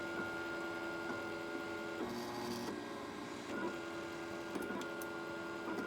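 Makerbot 3D printer running a failed print: steady motor whine and layered tonal hum with periodic shifts and small clicks as the head moves, close and continuous, with no talking over it.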